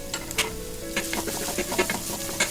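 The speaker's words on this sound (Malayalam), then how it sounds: "ഇതൊന്ന് നന്നായിട്ട് വഴറ്റിയെടുക്കാം." Crushed or chopped ginger and onion sautéing in a pan for kabsa, a soft steady sizzle with a spoon scraping and stirring in quick irregular strokes, heard close and fairly quiet.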